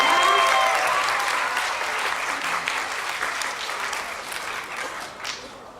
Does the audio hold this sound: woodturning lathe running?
no